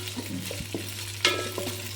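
Shallots, ginger, garlic and green chillies sautéing in oil with popped mustard seeds in a Kerala uruli, a soft sizzle under scattered stirring scrapes and one sharper clank.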